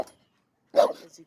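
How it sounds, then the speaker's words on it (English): A single dog bark rings out in a backyard vegetable garden, one sharp burst after near silence, fairly close and loud, with a shorter trailing yelp. "Sorry about the dog."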